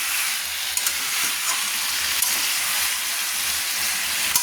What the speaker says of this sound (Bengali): এইরকম চিকেনটাকে কষানোর সময় মাঝে মাঝে চাপাটা খুলে নেড়ে নিতে হবে। দেখুন আমি নেড়ে নিচ্ছি।